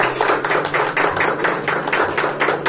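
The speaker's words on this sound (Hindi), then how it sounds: "बहुत बहुत मुबारक हो जोरदार तालियां बजाएं" A church congregation at an ordination service for an elder and evangelist claps hard together in a steady, rhythmic beat, loud and fairly close, with no one talking.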